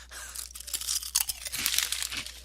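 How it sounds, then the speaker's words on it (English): Close, steady crunching of potato chips being chewed, a continuous crackly texture with a few heavier bites, loud and near with no talking. "While Rod gives us some nice background crunching"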